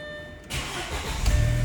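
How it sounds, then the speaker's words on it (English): An Audi engine fitted with an eBay turbo cranks and catches, then settles into a steady, slightly rising rumble, close by. "Do another little start up here."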